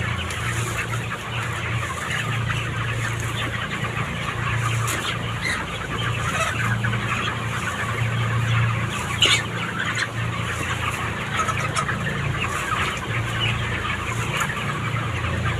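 Large farm chickens cluck steadily and continuously while being driven out at nine in the morning to feed and drink, a dense, close chorus with a low background hum and no talk.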